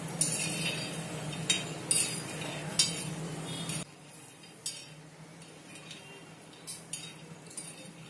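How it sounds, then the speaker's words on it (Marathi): Peanuts dry-roast on a flat griddle while being stirred, making faint rattling and scattered clinks against a low background rumble that drops away partway through. "बघू शकता मी कशा प्रकारे शेंगदाणे शेकत आहे तव्यावरती।"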